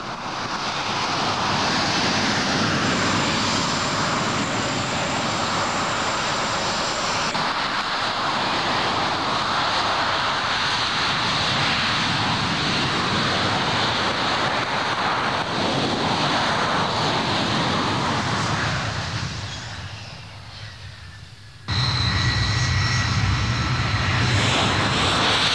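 Dassault Mirage VTOL prototype jet engine roaring at Istres in 1966, a loud broadband continuous rush that dips briefly near the end, then returns at full strength.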